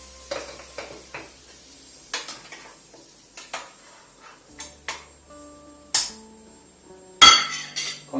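Utensils clink and scrape against a cooking pot and dishes in short, uneven bursts with quiet gaps between them, close by and with no talking, while home-cooked food is being stirred.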